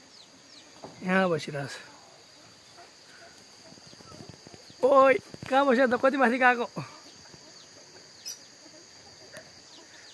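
Farm chickens give a few short bursts of clucking and calls near the coop, while a steady high insect buzz runs underneath and a person talks.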